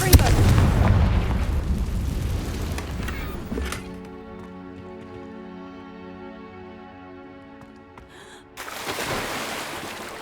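A booming fiery blast from the Confringo spell in the video game Hogwarts Legacy opens loudly, then gives way to sustained tonal music before another rumbling burst at the end.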